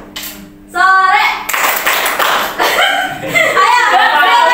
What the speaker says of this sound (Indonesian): kalau misalkan pagi 1 kali tepuk, siang 2 kali tepuk, sore 3 kali tepuk